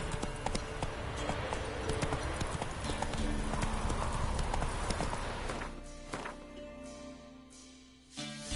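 Roach the horse gallops in The Witcher 3, with hooves clattering rapidly and loudly before the pounding fades and slows near the end.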